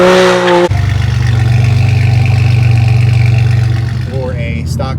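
A BMW F80 M3 with a factory turbocharged S55 engine and a modified exhaust, revving loud and close with a steady deep drone, then dropping off into a rising whine near the end.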